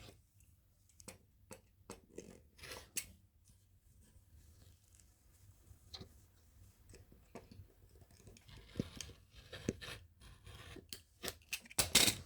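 Scissors trim the sewn fabric edges of a lined eyeglass case, a close run of sharp, irregular snips with soft rustling between cuts, quiet and alone.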